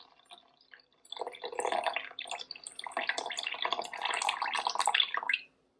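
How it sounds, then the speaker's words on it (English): Water at 80 degrees trickles slowly and steadily into a bowl set on a kitchen scale for sourdough, a close, bright, splashing pour lasting several seconds before stopping abruptly. "Today, we'll just go ahead and use 80-degree water. So I'm going to zero out the scale, and I'm going to slowly pour it in."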